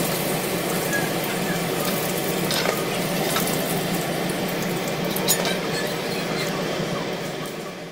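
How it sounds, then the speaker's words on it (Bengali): Onion, capsicum and garlic frying for chicken chilli, a steady close sizzle with faint stirring scrapes throughout and no talk. "এখন ভাজা হচ্ছে পেঁয়াজ, ক্যাপসিকাম, রসুন"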